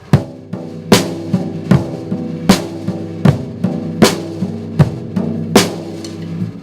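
A steady rock beat on a floor tom, with loud, resonant low hits roughly every beat and lighter strokes between, played close and alone.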